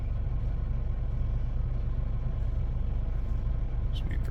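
Road traffic passing on a main road in front of a shop: a steady low rumble of car engines and tires, continuous and moderately loud, with a brief higher squeal at the end.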